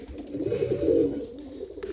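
Pigeons coo softly nearby in a low, rolling call that swells and fades over a faint background rustle, with no voices.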